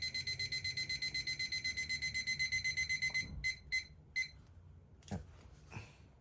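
A timer alarm beeps in a rapid, even pulsing series for about three seconds, then stops and leaves a few scattered clicks and soft thumps close by.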